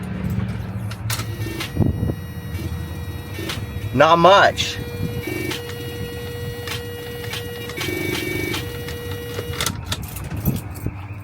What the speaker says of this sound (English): And then my box truck started clicking.